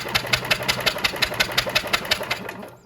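A Goodall Start All 708 engine from a dump is cranked by its starter, with a rapid, even chugging of about a dozen sharp beats that slows and fades at the end, loud and close, with no speech.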